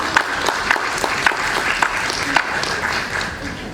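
An audience applauds following a speech at a World Soil Day opening ceremony, a steady wash of clapping throughout with a voice speaking over it.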